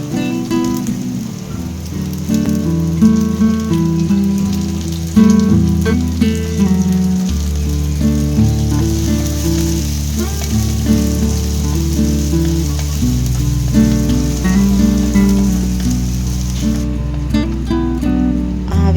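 Ginger, green chili and curry leaves sautéing in hot oil with salt in a pan for inji pachadi, a loud, steady sizzle and crackle that runs unbroken throughout with no voices.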